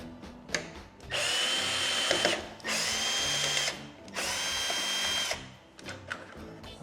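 A power drill backs three screws out of a panel on a BMW R1300GSA motorcycle: three loud, close whirring bursts of about a second each, separated by brief pauses with faint handling noises.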